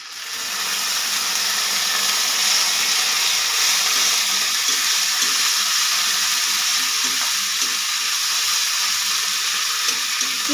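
Onions sizzle and fry in a pan with a loud, continuous bright crackling hiss that holds steady from start to finish, close up, with no talking.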